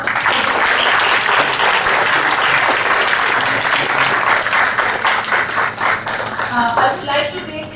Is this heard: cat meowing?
no